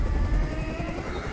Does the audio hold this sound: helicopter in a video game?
yes